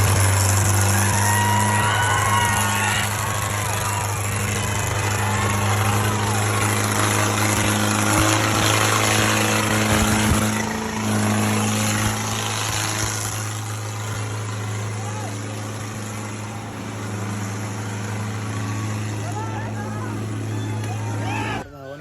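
Arjun and Sonalika tractors revving and idling at a tractor tug-of-war contest, a steady low engine drone with firing pulses under a crowd and excited voices talking throughout.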